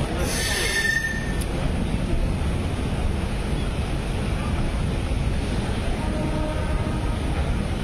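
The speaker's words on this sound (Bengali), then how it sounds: "তো আমাদের ট্রেন এখন সাঁতরাগাছি স্টেশনে ঢুকে গেল" The Shalimar–Puri Dhauli Express rolls into Santragachi station as a loud, constant rumble heard from on board, with a sharp high wheel squeal near the start that fades as the roar continues.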